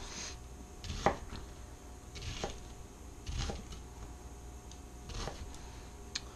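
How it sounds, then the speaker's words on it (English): Knife chopping an onion on a board while cooking a stir-fry: a handful of separate, fairly soft knocks spaced about a second apart, close by with low kitchen background and no talking. "One day I'll learn how to cut up an onion like a pro."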